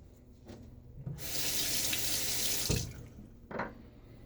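A bathroom tap runs into a sink to rinse off after a wet shave with a Feather blade, a steady close rush of water for about a second and a half, with small clinks and splashes before and after.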